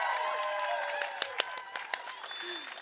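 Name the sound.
audience applause for guests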